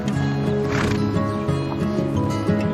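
At a stable yard, a horse gives a wavering whinny over steady background noise while its hooves shift and clop nearby, mixed with faint activity.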